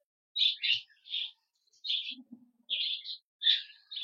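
Cockatiel chicks and their mother chirp inside a nest box in a series of short, bright, high calls, close and alone, with brief gaps between bursts and a faint low murmur in the middle.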